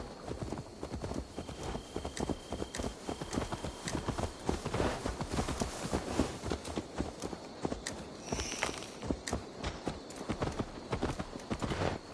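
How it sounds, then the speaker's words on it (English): Horse hooves clip-clop steadily in Assassin's Creed Valhalla as a mount walks along, a continuous rhythmic patter of many footfalls at close range with a faint tonal hum in the background and no talk. "Let's return the horse"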